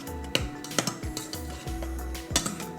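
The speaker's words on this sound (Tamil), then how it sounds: "நம்ம வெஜிடபிள்ஸும் மசாலாவும் ஒரு தடவை மிக்ஸ் பண்ணிக்கலாம்" A spoon stirs potato pepper curry in a pressure cooker, giving close repeated scraping and knocking against the metal pot at an uneven rhythm.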